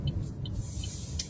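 Steady low road rumble of a car being driven, with faint hiss and a few brief higher chirps over the drone; no talking.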